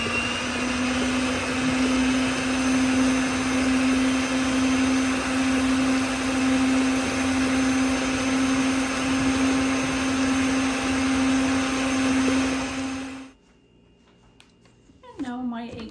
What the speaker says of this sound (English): Let's begin by mixing our egg whites until they stiffen.